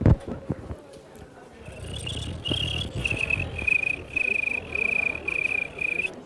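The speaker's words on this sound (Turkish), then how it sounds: "Genelde cırcır böcekleri daha da öter." Crickets chirping in the countryside of Adıyaman on a summer day, a steady pulsing high trill that starts after a few seconds and continues, with quieter sounds beneath and a faint car.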